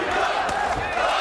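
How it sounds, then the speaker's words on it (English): Crowd at the Vic Darchinyan vs. Luis Maldonado boxing match roaring and shouting, a loud, continuous wash of cheering filling the arena. "Crowd into it now"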